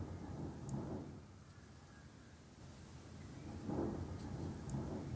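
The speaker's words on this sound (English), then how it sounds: "if you guys can hear that, I think we're having a thunder" Thunder from a sudden storm that broke out after bright sunshine rolls in low, muffled rumbles that swell and fade twice, distant and fairly soft, with a faint rain-like hiss underneath.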